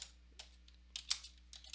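Typing on a computer keyboard produces a few quiet, irregular clicks and keystroke taps, close by and faint against a low hum, with no speech.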